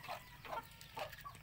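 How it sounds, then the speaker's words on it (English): A big young rooster clucks in short bursts, about three or four low calls spaced across a second and a half, close by and fairly quiet. "Nice big rooster."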